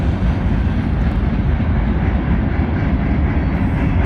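Norfolk Southern freight train 31T rolling past at night in southern New York State, a loud, steady, broad roar of wheels and railcars close by, continuous without a break.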